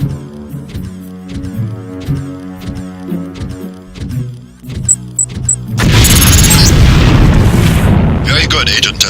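A LAM explosive charge detonates against a wall in Deus Ex training with a loud, sustained boom and rumble. It follows a stretch of rhythmic game music and tonal beeps.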